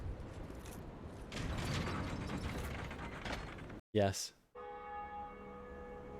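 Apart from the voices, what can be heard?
mechanism and bell ringing, from the video game Dark Souls Remastered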